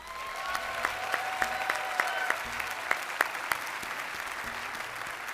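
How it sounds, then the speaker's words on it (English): A commencement crowd at Cushing Academy gives graduates another round of applause, dense continuous clapping with a few loud individual claps standing out near the front, while faint musical tones sound behind. "Let's give them another round of applause"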